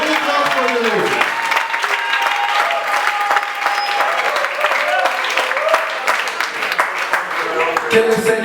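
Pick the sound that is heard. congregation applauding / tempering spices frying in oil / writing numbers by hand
congregation applauding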